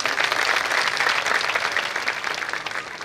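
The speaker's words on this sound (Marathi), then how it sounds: "त्यांच्यासाठी जोरदार टाळ्या झाल्या पाहिजेत." Audience at a devotional music concert applauds a harmonium accompanist, a dense steady wash of clapping that stays loud throughout and eases slightly toward the end.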